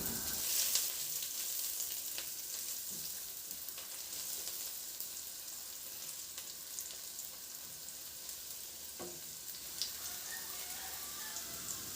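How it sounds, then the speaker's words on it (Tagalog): Garlic sautéing in hot cooking oil for a simple cabbage dish, a steady close sizzle and crackle with no talking, a few louder pops rising over the continuous frying hiss. "Magpainit na ako ng mantika at igisa ko na rin yung bawang."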